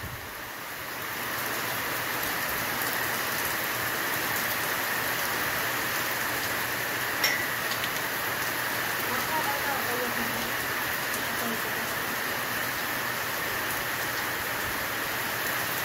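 Heavy monsoon rain falls steadily in the Konkan countryside, a dense, even hiss that holds at constant loudness throughout with no break, with faint background sounds beneath it.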